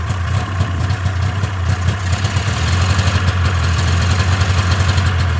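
A cold engine warming up at a steady low idle runs throughout, with a smooth rumble and faint rhythmic pulsing, close and continuous.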